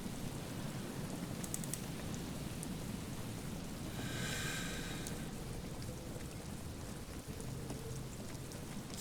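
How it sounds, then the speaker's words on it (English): Continuous rainfall in a video game (Disco Elysium) hisses evenly throughout, with a faint low rumble of distant thunder underneath and no talking. "Let's go back to the rain, the calming rain."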